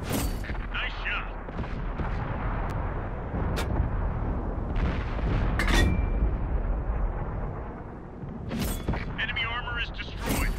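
Tank cannon fire and explosions during a World of Tanks battle on Fisherman's Bay, with a British Bishop tank engaged. Sharp cracks and booms punctuate a dense battle roar while voices talk over the action.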